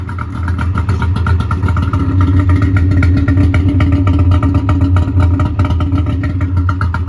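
A triple-piped 2003 Yamaha Viper 700 snowmobile with SLP pipes idles close by, a steady, loud, rough engine rumble with constant clattering pulses and no talking.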